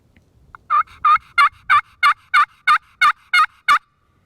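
Ten sharp, evenly spaced double breakover yelps from a turkey pot call in the mountains, loud and close, each a quick two-note breaking yelp in a steady rhythm.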